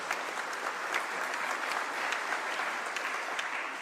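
Steady applause from a crowd at a cultural heritage conference at UNON Gigiri, Nairobi, fills the whole stretch, even and sustained, with no pauses.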